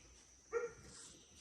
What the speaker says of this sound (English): That doesn't sound like a killer dog.